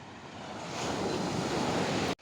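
Strong sea waves rolling onto the shore at a fishing landing in Julugan, Tanza, a steady roaring wash of surf that swells louder and then cuts off abruptly, heard alone with wind buffeting the microphone.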